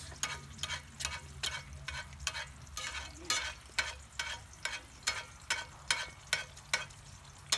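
An egg fries in bacon grease in a Lodge cast iron skillet under a steady background sizzle. Regular rhythmic scraping swishes repeat about once per second as hot grease is spooned over the egg, close by, with no talking.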